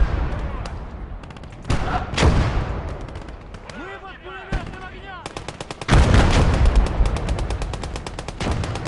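Machine gun fire rattles in dense, rapid bursts during a World War II tank battle in the strategy game Close Combat: Gates of Hell, louder sustained volleys after a pause, with a few heavier gunshots and faint voices mixed in.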